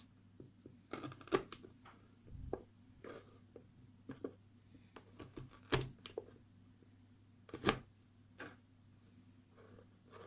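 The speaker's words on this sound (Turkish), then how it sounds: "Kerevizleri doğruyoruz." Knife chopping celery on a cutting board in a home kitchen, sharp irregular thuds and crisp cuts spaced a second or two apart, close and fairly quiet over a low steady hum.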